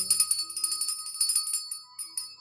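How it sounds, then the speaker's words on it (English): A bell rings in a live online classroom, its bright metallic strokes repeating in quick succession for a couple of seconds with no talking. "I got a bell."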